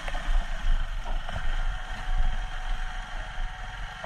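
Motorbike engine labouring uphill in second gear on a steep ghat road near Gudisa hill station, Maredumilli, a steady loud low drone with a throbbing pulse throughout, no voices.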